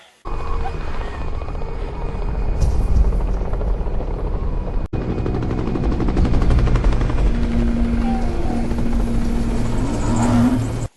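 A helicopter lifts a giraffe slung beneath it over snowy mountains in the disaster film 2012. Its loud, steady rotor roar runs continuously for about ten seconds, with no talking.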